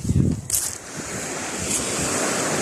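Sea waves wash steadily onto Hat Samae beach on an island, a continuous surf roar with wind rumbling in the microphone, preceded by a brief louder splash at the start.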